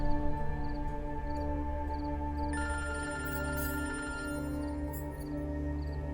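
A phone rings indoors with a steady electronic tone and repeating high chirps, continuous and moderately loud, with no one speaking over it.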